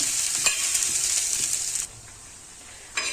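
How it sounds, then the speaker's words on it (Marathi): Onion frying in a pan until dark for a drumstick vegetable dish, a loud, close hissing sizzle with light stirring that cuts off abruptly partway, then briefly returns at the end. "कांदा एकदम लाल येईपर्यंत अशा प्रकारे आपण परतून घेऊया"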